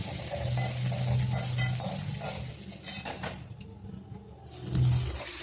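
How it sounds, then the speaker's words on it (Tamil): Marinated country chicken sautéing in hot oil for a curry, with a steady sizzle and scraping, stirring clatter against the pan throughout. "இப்போது ஊற வச்ச சிக்கனை அந்த எண்ணெயிலேயே போட்டு நல்லா வதக்க வேணும்."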